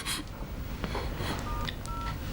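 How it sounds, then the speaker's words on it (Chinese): Mobile phone keypad dialing tones, a few short steady beeps spaced apart over faint room noise, with no talking. "妍飞的电话还差一个号码，要我帮你拨吗"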